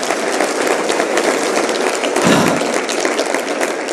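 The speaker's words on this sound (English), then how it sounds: "Give a big round of applause" Round of applause from an audience at an inspirational pitch talk, a dense, steady wash of many hands clapping that holds at one level for several seconds with no voices on top.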